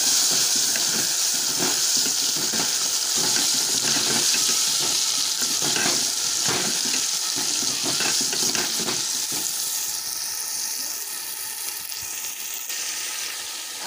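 Tomatoes go into a hot pan for cauliflower biryani and set off a steady loud sizzle with stirring scrapes that crackle throughout, easing slightly toward the end.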